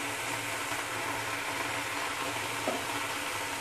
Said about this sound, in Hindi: ये देख सकते हैं तेल गर्म हो गया है। अब मैं इसमें चिकन ऐड कर रही हूँ।